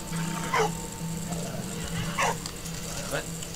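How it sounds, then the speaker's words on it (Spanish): Dog in the World War I game Valiant Hearts, giving a few short barks and yips at a moderate distance over a busy background of game sounds. "Oh, hay que mandar al perro."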